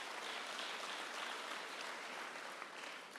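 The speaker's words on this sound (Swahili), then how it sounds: "tuwapige makofi." Audience applause for teachers at a public event in Nairobi, a dense, even wash of many hands clapping, heard from a distance and steady throughout, with no talking.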